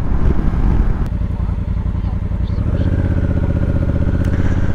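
A sport motorcycle ridden on a trail, its mid-pitched engine droning steadily up close and settling into a lower, even hum partway through, with a brief clatter and a voice talking over it.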